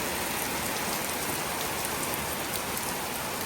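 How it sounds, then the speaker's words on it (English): Heavy rain pours down steadily over a patched cement wall, a dense, loud, unbroken hiss with no letup and no voices. "the rain just coming and washing all my cement away"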